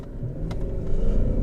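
A BMW 740iL sedan engine, fresh from catalyst repair, revving hard toward the red line, a loud, close, low rumbling roar that builds steadily in pitch and strength.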